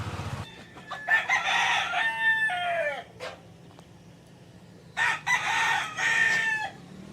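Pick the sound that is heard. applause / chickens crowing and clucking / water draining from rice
chickens crowing and clucking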